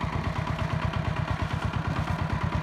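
A walk-behind motoblock tractor engine chugs with a fast, steady pulsing beat, close and fairly loud, as it drives toward a shallow pond while hauling firewood.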